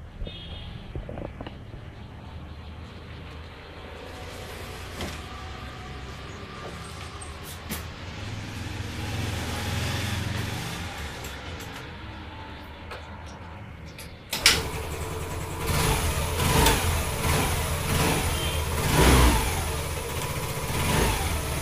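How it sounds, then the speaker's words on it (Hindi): A Yamaha Ray ZR scooter engine, started on choke after wiring work, catches midway and runs with a steady mid-pitched idle rising into louder revs, close up, with little talk around it. "चोक यूज़ करके स्टार्ट करेंगे तो हो जाएगा"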